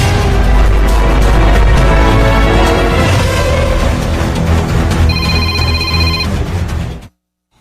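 A cellphone rings loudly and close, its repeating electronic tone over busy room noise for several seconds before cutting off abruptly.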